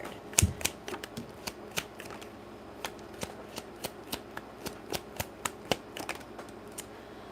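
Tarot cards being shuffled and handled, a sharp riffle followed by a steady series of crisp, evenly spaced card snaps and taps, close and fairly quiet.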